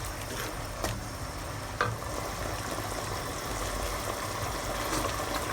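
Noodle sauce of ketchup, sugar and salt being stirred in a pan, a steady scraping, sizzling texture with a couple of sharp utensil knocks, continuous and moderately close, with no talking.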